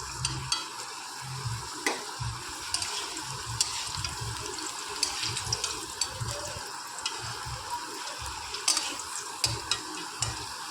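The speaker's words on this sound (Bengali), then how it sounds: "দেখো আলুগুলো প্রায় লাল লাল করে ভাজা হয়ে গেছে" Potatoes frying in a pan until reddish-brown: a constant close sizzle with repeated scraping and clattering stir strokes and occasional bubbling pops throughout.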